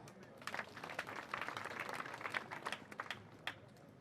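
A gathering at a family celebration breaks into scattered clapping, uneven bursts of hands with some sharper individual claps, fairly faint and mixed with background murmuring.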